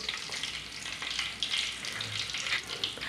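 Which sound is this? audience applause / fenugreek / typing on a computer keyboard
fenugreek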